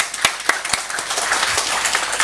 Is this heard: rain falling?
no